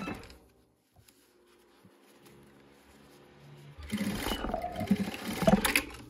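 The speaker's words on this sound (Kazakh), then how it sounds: "ендігі жұмыс мына жаңағы 7 сантиметр арақашықтықты қайтадан тігіп шығамыз" Sewing machine stitching a seam on a lightweight fabric pencil case, a quiet stretch giving way to steady, busy machine running that grows louder toward the end.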